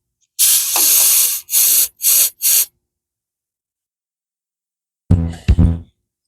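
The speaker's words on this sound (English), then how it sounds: "I'm going to spray a little electrical contact cleaner in here before I hook it back up" Electrical contact cleaner sprayed into a motorcycle stator plug: four close, sharp hissing bursts, one long and three short, then silence and a brief rattling handling noise.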